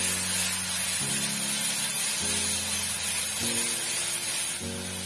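Garlic, ginger and onion paste sizzling in hot oil over a lowered gas flame, a steady loud hiss with no talk.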